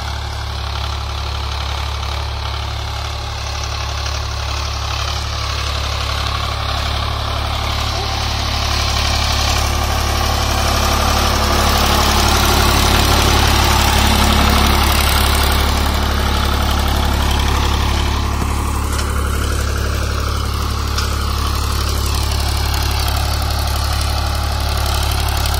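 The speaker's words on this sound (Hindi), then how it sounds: "ट्रैक्टर ही चाल देगी अब, 12-1300 आरपीएम पर चल रहा है दोस्तों" Swaraj 735 FE tractor engine running steadily at around 1200-1300 rpm, a loud continuous low diesel drone with steady vibration, rising slightly in intensity midway and holding close and even throughout.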